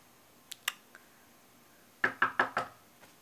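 Knocking on a bedroom door: a couple of light taps, then four firm, evenly spaced knocks, close and sharp in a quiet room.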